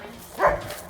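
A single dog bark on an outdoor running trail, one short mid-distance woof over quiet ambient background noise.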